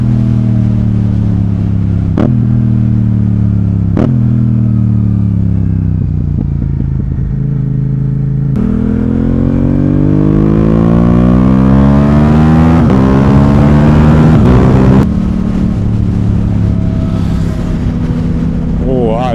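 Yamaha R7 motorcycle accelerating hard with short shifts, engine note climbing in repeated rising sweeps broken by quick gear changes, loud and close with wind rush throughout.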